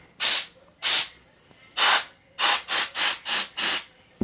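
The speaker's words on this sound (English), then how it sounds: "I feel like maybe I'm blasting too much air into this" Short sharp bursts of compressed air blowing dust out of a PC hiss in irregular blasts, two spaced apart then a quicker run of five or six, close and loud with no talking.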